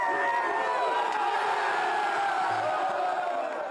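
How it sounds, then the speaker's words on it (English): Rugby players and coaching staff cheering in a rugby club dressing room, a steady loud crowd roar of whoops and shouting voices that holds at full level throughout without a break. "He's doing so in a rugby club dressing room with players and coaching staff cheering him on."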